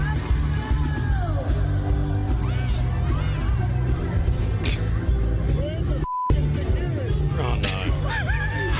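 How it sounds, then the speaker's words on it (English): A crowd yells and scuffles at a live concert while a female singer performs on stage. Loud, dense shouting and whoops over music fill the whole stretch, with a voice speaking close by. "Have a listen to the mayhem that's going on in the crowd while she's performing up on stage."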